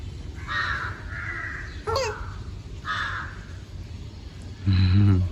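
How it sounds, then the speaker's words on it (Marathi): Several crows caw in separate bursts, fairly close, with short quiet gaps between calls over a low background rumble. "कावळे बघते ती, कावळे. काव काव काव काव."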